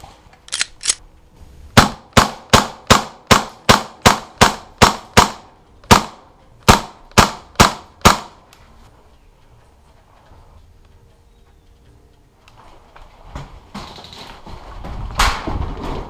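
Airsoft guns firing during an outdoor match at a favela-style field in Tocantins: a rapid run of sharp snapping shots, a brief pause, then a few more, followed by quieter rustling and movement.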